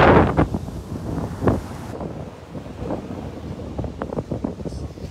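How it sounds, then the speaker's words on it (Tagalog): Strong ocean waves break on a beach during a family picnic by the sea, heard through heavy wind buffeting on the microphone, with rolling surf washing beneath the gusts and no clear talk. "Malakas ang alon kayo."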